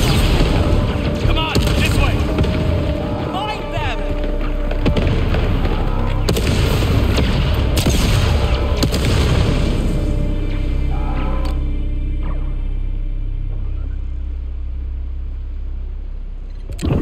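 Fireworks bursting in the Star Wars Outlaws video game, a dense stretch of loud booms and crackling pops layered over a deep rumble, close and continuous before easing off toward the end.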